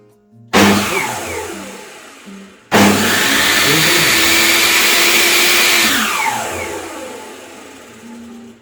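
A table saw's electric motor starts abruptly with a sharp jolt, cuts out briefly, then kicks on again into a loud steady whining hum that runs for several seconds before winding down.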